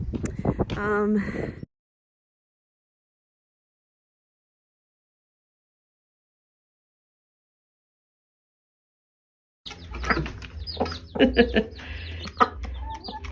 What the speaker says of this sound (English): So I'm gonna go back and check on the chicks.